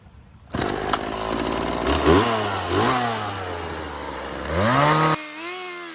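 A loud chainsaw roars into life and cuts through wood, its engine rising and falling in pitch as it bogs down and revs, then cuts off abruptly near the end.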